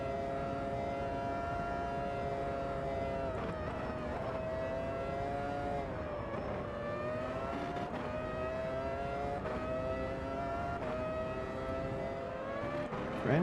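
Formula V10 Gen 1 race cars in the racing game Automobilista 2 at Silverstone, engines screaming at high revs with rising and falling pitch as they shift gears, steady and loud throughout with no talking.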